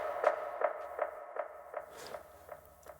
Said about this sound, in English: there's this clap that just has some reverb and delay on it,